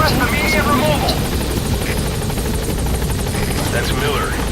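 Support helicopter in Metal Gear Solid 5 arriving at the landing zone, a loud continuous rotor thrum with a rapid blade chop that fills the whole stretch, with game voices speaking over it.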